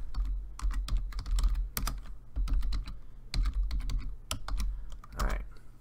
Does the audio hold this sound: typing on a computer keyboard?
yes